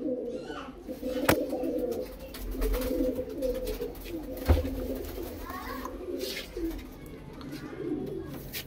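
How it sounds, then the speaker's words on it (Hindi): White-eyed white Motichur pigeon cooing, soft repeated low coos in a steady rhythm, with other pigeons and birds calling nearby and occasional sharp clicks and knocks in the background. "बिल्कुल मोतीचूर कबूतर है"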